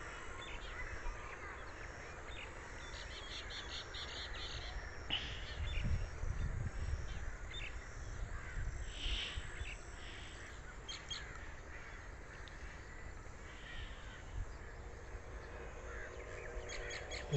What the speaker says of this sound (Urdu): ادھر دیکھیں بہت سے برڈز ٹری کینوپیز کے اوپر.